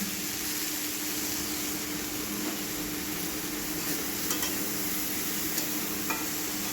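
Chickpea masala with chilli, coriander and cumin powders sizzles steadily in a pan while a spoon stirs it, a continuous close frying hiss with faint scraping clicks.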